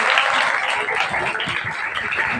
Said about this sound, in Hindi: इस बात के लिए जोरदार ताली।